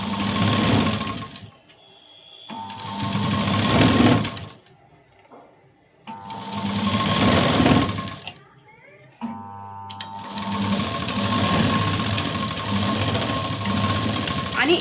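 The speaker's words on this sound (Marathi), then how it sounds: "आता मी डबल शिलाई आधी देऊन घेते पहा" A sewing machine stitches net fabric in three long, loud bursts of steady rapid whirring, with short quiet pauses between runs, close by.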